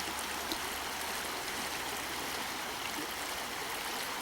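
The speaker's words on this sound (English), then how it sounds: "This river's been flowing since I was a child." A river flows steadily in the Aberturret area near Crieff, a continuous broad rush of water heard close and alone, with no voices.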